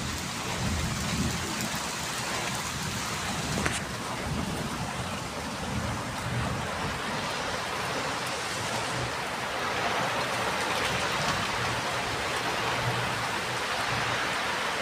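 Steady, dense rain hisses throughout at Khadpoli while low thunder rumbles softly in the distance beneath it.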